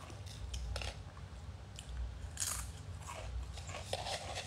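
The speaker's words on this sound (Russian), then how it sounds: "Тоже пошла чипсами, классно хрустишь." Potato chips crunched and bitten close to the mic during a livestream, giving a string of irregular crisp crackles over a steady low background hum, with no talk.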